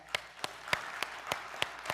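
An audience at a youth summit claps together in a steady, evenly spaced rhythm: about seven sharp, crisp claps over two seconds, moderately loud with no talking.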